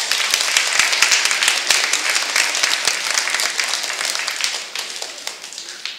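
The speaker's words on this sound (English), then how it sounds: "So give yourselves a round of applause because you guys are doing awesome." A school audience at an Education Week opening ceremony breaks into loud, sustained applause, with dense clapping filling the hall at a steady level before easing slightly toward the end, with no talk over it.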